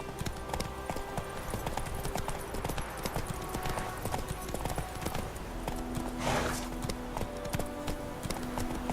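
Roach, the horse in The Witcher 3, gallops with steady rhythmic hoofbeats, a continuous clip-clop at moderate loudness lasting the whole stretch, with faint background sounds and no speech.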